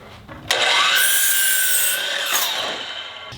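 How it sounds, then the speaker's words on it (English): Power saw cutting a miter on the end of a wooden board for a covered fire pit build: a loud, close whine rising as the blade enters the wood, holding steady for about two seconds, then winding down. "the first thing I do is cut the miter on the end."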